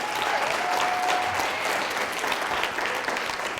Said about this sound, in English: Give me a big round of applause again, you guys.